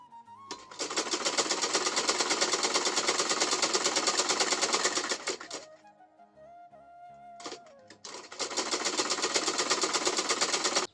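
A sewing machine stitches in fast, steady mechanical bursts, running for about five seconds, pausing through a quieter gap with a faint hum, then whirring again at the same close, busy pace.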